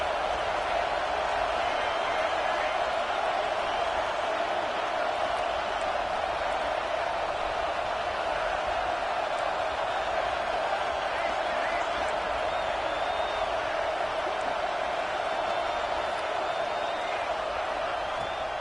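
Steady stadium crowd roar from the NCAA 26 college football video game, a constant dense wash of cheering and noise filling the whole stretch at even loudness.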